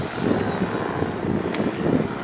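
FMS Warthog radio-controlled model jet passing overhead outdoors, a steady, moderate whine and rush sustained throughout, with wind buffeting the microphone.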